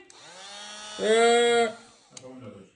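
A cordless angle grinder touches stainless steel as its battery dies. A thin motor whine rises, swells briefly, then falls away, followed by a short weaker sputter, heard up close.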